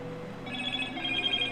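A telephone rings, a bright trilling tone that starts partway through and keeps pulsing over a steady low background hum, close and fairly clear.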